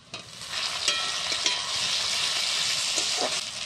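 Chopped tomatoes and onions sizzle steadily in hot oil, a close, continuous frying hiss with a few scraping stirs of the spatula, no voices.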